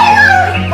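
A voice mimics a rooster crowing at dawn as it is struck by a thrown shoe: one short, strained, pitched-up squawk, loud and close, with no other sounds.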